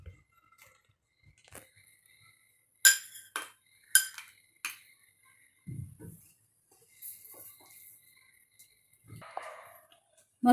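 Spicy crab curry made with black crabs is ladled out of the pot, producing sporadic metallic clinks and scrapes of a spoon against the vessel. Between them come soft wet, squishy sounds and long quiet stretches.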